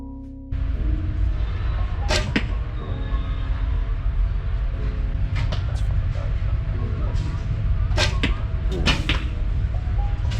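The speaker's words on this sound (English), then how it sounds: "listen to the fucking arrow get shot" An archery arrow is shot at an outdoor session in Vietnam, giving a few sharp whooshing releases near 2, 8 and 9 seconds over steady ambient noise and low murmur.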